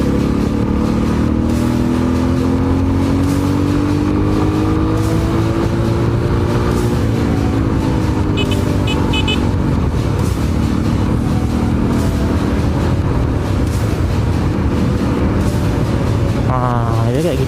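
A motorbike engine revs hard at racing pitch, loud and close, rising and falling in long sweeps with wind buffeting the microphone; a voice talks briefly underneath.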